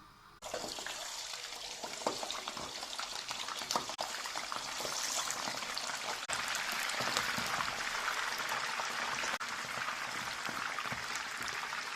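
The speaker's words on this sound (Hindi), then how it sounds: "अब इसमें जो है मैं चिकन फ्राई करती हूँ।" Chicken fries in hot oil in a kadai, a dense continuous crackling sizzle that starts abruptly and holds steady and loud throughout, with no talk over it.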